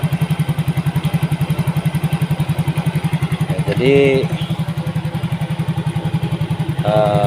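A Yamaha Mio GT scooter with a newly replaced injector idles steadily near 1300 RPM. Its close, even, rapid thumping pulse runs throughout while someone speaks briefly over it.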